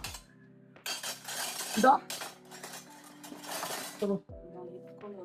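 Spoons and cooking pots clink and scrape in a home kitchen, with a few sharp metallic knocks and a louder clatter near the end, under a quiet background hum.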